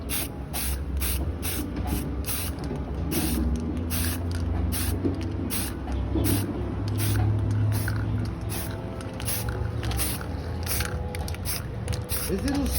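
An aerosol can of spray paint is sprayed in repeated short bursts with a steady hiss, about a dozen quick pulses in even rhythm, outdoors in wind with low background rumble.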